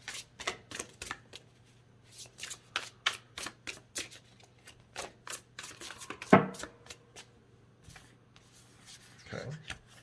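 Tarot cards being shuffled by hand in repeated quick riffling bursts, close and crisp, with a brief louder handling knock midway and soft speech in the background.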